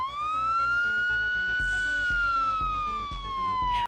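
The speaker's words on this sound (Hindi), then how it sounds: "कुछ ही देर में दूर से एक आवाज सुनाई देती है, सायरन की।" A police car siren wails in a long rising and falling sweep, loud and steady over a low background bed for about four seconds.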